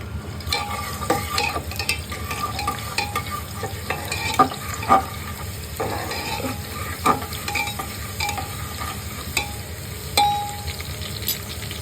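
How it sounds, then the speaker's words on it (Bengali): Chopped onion fries in hot oil in a pressure cooker, a continuous sizzle broken by frequent spatula scrapes and clinks against the metal, close and fairly loud throughout. "তেলটা গরম হয়ে আসলে আমি তাতে পরিমাণ মতো পেঁয়াজ কুচি দিয়ে দিচ্ছি"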